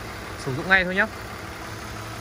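An automatic motor scooter engine idles steadily in the background, a smooth low hum running under a man's brief speech.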